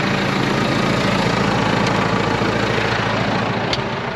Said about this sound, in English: Right, back into the tractor.